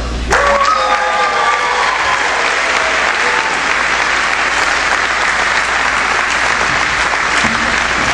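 Sustained applause from an audience at a senior awards ceremony, a dense, loud wash of clapping that fills the room evenly from start to finish.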